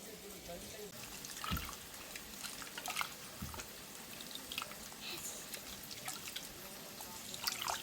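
Tamarind juice poured from pulp onto pieces of seasoned fish for a Nellore-style fish stew, heard as faint trickling and dribbling liquid with a few soft knocks, quiet and close.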